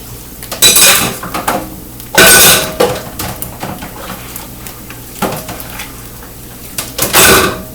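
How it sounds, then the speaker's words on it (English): Dishes being washed up in a home kitchen while cooking breakfast, with loud clattering bursts of plates, pots and cutlery knocking together over running water, repeated at irregular intervals with no talking. "Finish washing up this little bit of dishes."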